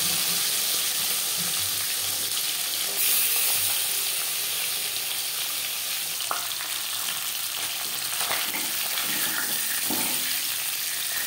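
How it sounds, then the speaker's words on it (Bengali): Marinated fish pieces and a fish head frying in four spoons of hot refined oil, a steady, close broadband sizzle with occasional louder spits and crackles, no voices. "মাছ ভাজবার জন্য 4 চামচ রিফাইন্ড অয়েল গরম করে নিয়েছি। এবার দিয়ে দেব ম্যারিনেট করে রাখা মাছের মাথা আর মাছ।"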